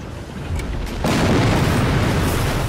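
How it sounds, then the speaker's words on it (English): A loud explosion in the Captain America: Super Soldier video game erupts after a quieter lead-in, settling into a sustained, heavy rumble of collapsing debris that fills the rest of the moment. "It's all coming down. One more explosion should finish it."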